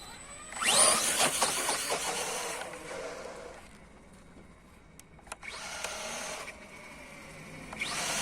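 A Remo Hobby M Max 1035 RC car on a 3S 11.1V LiPo battery revs its electric motor outdoors, with a sharp whining burst, a lull, then further revving surges at moderate distance.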